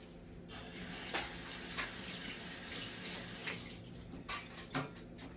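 Deseeded chili peppers are rinsed under a running kitchen tap, a steady close splashing hiss of water with irregular louder splatters as the peppers are moved through the stream.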